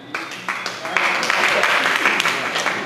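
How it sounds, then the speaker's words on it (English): An audience at a public education forum breaks into applause, a dense, fairly loud patter of many hands that builds after the first second and keeps going, with voices mixed into it. "Let the clap go on."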